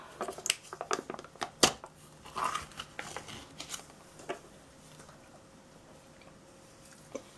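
A package of runny 15% sour cream is opened up close. Sharp crinkles, snips and rustles come in a busy burst for the first couple of seconds, then fade to a few quiet handling sounds.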